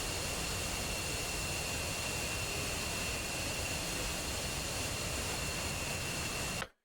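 Jet engines of F-18, J-11 and F-15 fighters in a combat flight game, a steady, loud broadband roar with a thin high whine that holds level throughout and then cuts off abruptly.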